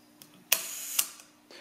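A large format lens shutter is cocked and then fired at a half-second setting, giving a sharp mechanical click that opens and a second click that closes half a second later, close-up and quiet.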